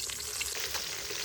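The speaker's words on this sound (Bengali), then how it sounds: "মাছগুলো প্রায় ভাজা হয়ে গেছে, মাছের মাথাগুলো" Fish heads frying in oil in a pan give a steady, close hiss and sizzle with small crackling pops throughout, and no voices.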